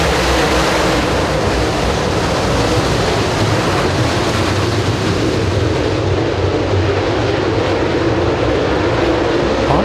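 Super late model race cars roar around a speedway, a dense, loud engine drone with wind-like noise that holds steady throughout.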